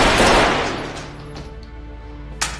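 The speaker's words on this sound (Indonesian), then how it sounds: "Imran melakukan tembakan palsu ke arah lain." A loud gunshot blast rings out and fades into a long echoing tail, followed by a sharper, quieter crack near the end.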